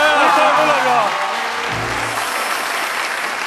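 Studio audience applauding actress Cecilia Cheung on a Chinese TV variety show, a steady wash of clapping under overlapping speech and voices, fading slightly over a few seconds.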